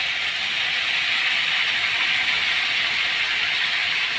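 Water poured into spice paste frying in a pan sizzles with a loud, steady hiss that holds evenly throughout, with no talking.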